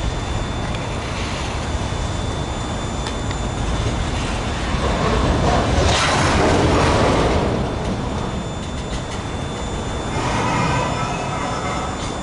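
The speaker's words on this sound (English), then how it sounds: "We got another BNSF train coming." A BNSF freight train led by a Dash 9 locomotive rolls past outdoors in the Puget Sound area, a steady broad rumble and rail noise that swells in the middle and again near the end.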